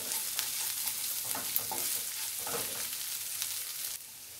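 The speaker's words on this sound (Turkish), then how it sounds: "Güzelce kavuralım." Spices including black pepper, cumin and dried mint sizzle and crackle in a hot pan with occasional stirring scrapes, steady and close, no talking.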